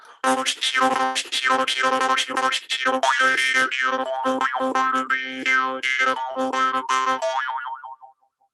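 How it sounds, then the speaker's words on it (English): A jaw harp twangs continuously on one pitch, pulsing rapidly with quick rhythmic breaths and shifting vowel tones before fading out. "So if you breathe in and out, hit the twanger,"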